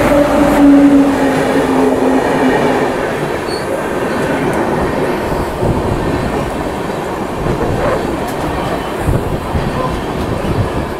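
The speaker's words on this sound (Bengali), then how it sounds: "আমাদের ট্রেন বালেশ্বর স্টেশন থেকে ছেড়ে দিল।" A passenger train pulls out of Balasore station on a Kolkata to Puri special service, with a steady loud rumble of rolling wagons and faint wheel squeal, continuous and close for the whole stretch.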